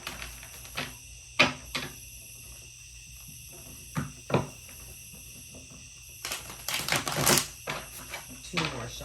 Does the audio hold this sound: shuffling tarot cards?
yes